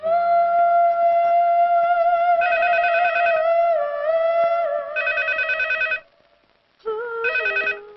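A telephone rings with an electronic tone in repeated bursts, loud and close, pausing briefly before the ringing resumes, with no one speaking.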